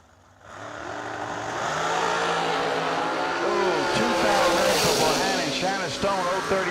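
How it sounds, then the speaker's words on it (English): A 2019 Miller dragster roars down the drag strip at a summer bracket race, its engine note rising in pitch as it accelerates and stays loud throughout, with an announcer's voice running over it. "2019 Miller Dragster."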